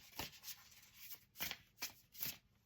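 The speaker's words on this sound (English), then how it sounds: "so let me keep shuffling here" An Energy and Spirit oracle card deck is shuffled by hand, with crisp riffling bursts in an uneven rhythm, close and fairly quiet with no talking.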